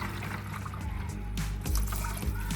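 Water flowing through a water curtain spray booth on a scale modeling bench, a steady splashing trickle and pour that swells partway through, close and moderately loud with no talk.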